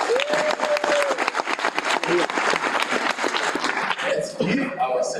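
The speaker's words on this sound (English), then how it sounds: "Let's give a round of applause." A room of graduates and guests at a spring graduation ceremony applauds steadily. Voices and light laughter are mixed in, and someone speaks briefly near the start and end.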